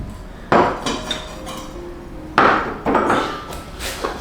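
A boxed set of five ceramic teacups being handled, giving a few sharp clinks and knocks, two louder impacts followed by lighter rattling contacts up close.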